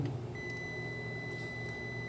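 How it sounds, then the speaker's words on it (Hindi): A multimeter on continuity test gives a steady high-pitched beep while probing a Microtek square wave inverter's drive section, sounding alone and sustained for most of two seconds over a low hum. "बीप बता रहा है"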